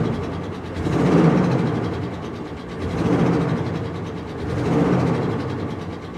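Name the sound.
car engine revving with a misfire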